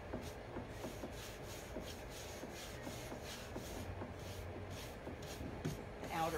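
A dry brush rubs and blends Dixie Belle Copper topcoat and Plum Crazy paint across a furniture surface, giving steady, close scratchy strokes that repeat in a soft back-and-forth rhythm throughout.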